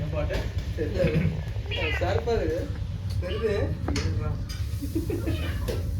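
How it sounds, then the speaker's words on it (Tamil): A cat meows several times in short, plaintive calls, fairly close, while people talk over and between the cries. "பூனை"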